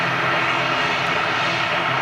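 Steady, loud roar of an aircraft engine at Manchester Airport, likely a newer Boeing 767, a continuous close drone with no talking.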